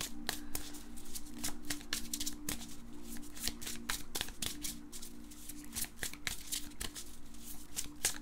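Tarot cards gathered and shuffled by hand, producing a rapid, uneven run of close, crisp card clicks and riffles over a faint steady hum, with no talking.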